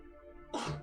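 A single short, sharp sneeze close by, bursting out after a brief quiet moment at a tabletop role-playing game session.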